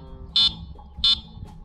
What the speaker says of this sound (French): c'est qu'il y a un klaxon électrique.